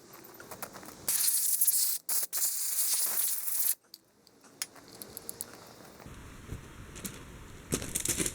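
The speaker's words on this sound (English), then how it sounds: "I'm going to spray WD-40 in there" Short hissing bursts of a WD-40 aerosol can spraying up close into a Wheel Horse 704 tractor's carburetor area, separated by brief pauses, with some clicks and handling noise afterward.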